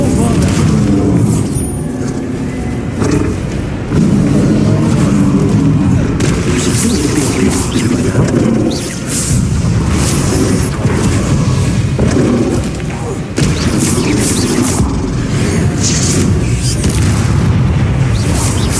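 Spell effects during combat in Hogwarts Legacy, repeated heavy magical booms, thuds and blasts layered over a loud, busy battle din, with a voice shouting over the action.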